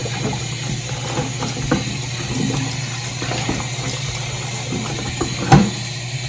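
Tap water runs steadily into a kitchen sink as oxtail is rinsed for a Jamaican-style dish, a continuous hissing flow with a brief louder splash near the end and no talking.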